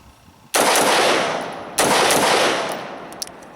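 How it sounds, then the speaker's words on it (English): Two loud, close shots from a Smith and Wesson M&P T tactical AR-15 rifle, each a sharp crack followed by a long fading echo, about a second apart. "Very easy with the AR to shoot."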